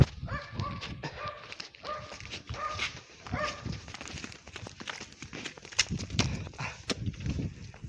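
A dog in a park gives a quick run of about eight sharp, close barks, followed by scuffling and shuffling steps.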